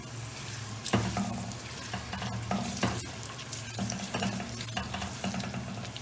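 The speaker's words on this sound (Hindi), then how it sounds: "इसमें हम अपनी प्याज को ब्राउन कर लेंगे" Onions brown in about half a cup of ordinary cooking oil for a beef pasanday. A steady, close sizzle is broken by repeated clanks and scrapes of a spoon stirring in the pot.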